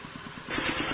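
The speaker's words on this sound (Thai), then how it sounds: "เด็ก เป็นก็ตั้งเครื่องสูบน้ำไว้นะค" A water pump engine running steadily at close range, a low rhythmic motor throb that grows noticeably louder and brighter about halfway through, no talking.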